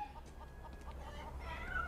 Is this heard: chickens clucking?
yes